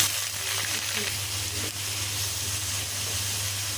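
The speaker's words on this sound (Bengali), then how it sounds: "এখন পেঁয়াজগুলো একটু ভেজে নেব, যদিও সিদ্ধ করে রাখা হয়েছে, তারপরে ভেজে নিচ্ছি।" Pre-boiled onions fry in oil alongside browned chicken in a pan, a steady, moderate sizzling hiss with a few faint clinks, no voices.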